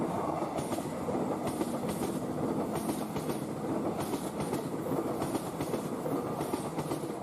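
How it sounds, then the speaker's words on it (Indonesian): The Airlangga passenger train rolls along the rails with a continuous loud rumble and a faint rhythmic clatter from the wheels, heard steadily from inside the moving train. "Naik kereta Airlangga"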